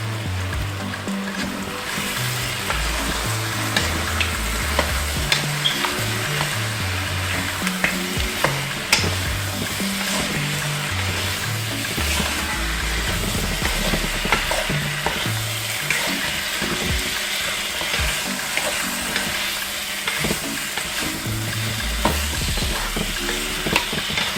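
Oxtail simmering with cola in a pot, cooking low and slow; a steady bubbling sizzle runs throughout with scattered stirring clinks and small knocks, close and fairly constant, with no talking.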